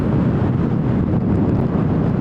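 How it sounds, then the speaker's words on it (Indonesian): Steady, loud wind rush buffets the microphone while riding a Honda PCX160 scooter along a straight rural road, a continuous roar with no talk. "Jadi masih ada angin-angin sejuknya."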